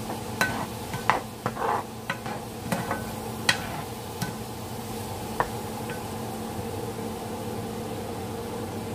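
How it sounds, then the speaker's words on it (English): Pork stir fry sizzles in a pan while being stirred, with a scattering of sharp scrapes and taps over a steady low frying hiss, close by and moderately quiet, no talking. "A little stir."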